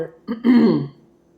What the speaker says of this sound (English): Let me clear my throat, okay?